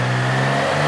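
Triumph Trident 660 motorcycle engine held at high revs as the rev counter nears 4,000, a steady, close, loud mechanical drone with no talk over it.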